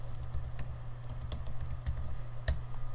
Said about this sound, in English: you want to press tab on your keyboard, type your text, and type your text